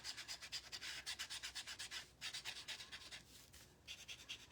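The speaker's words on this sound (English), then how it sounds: "I don't know if y'all can hear my dog clicking around in the background." Rapid, light clicking and scratching taps repeat in quick bursts, like a dog's claws on a hard floor, fairly faint and close, with brief pauses.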